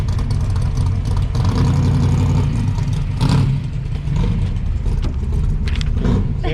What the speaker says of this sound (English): Oh, that's a sick fucking hot rod.